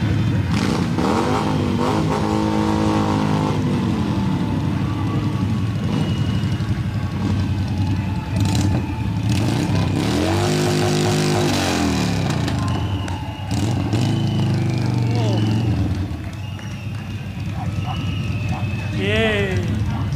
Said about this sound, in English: There's a couple of cars and a few more bikers behind them.